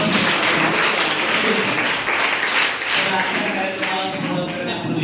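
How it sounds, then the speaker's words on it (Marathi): An audience claps at a school Raksha Bandhan program at PM Shri Zilla Parishad secondary school, Khokarmoha: dense, sustained applause filling the hall, with voices mixed in. "टाळ्या वाजवून त्यांचं"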